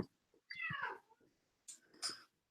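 A calico cat gives a clear, close meow followed by a shorter second meow, with a few soft thumps in between.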